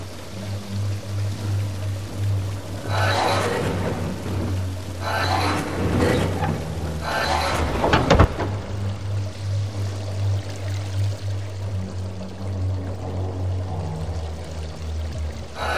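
Water draining from a flooded cave in Silent Hill: Downpour, a steady rushing pour with a low mechanical hum beneath, swelling in several surges and a sharp splash partway through before settling into a continuous flow.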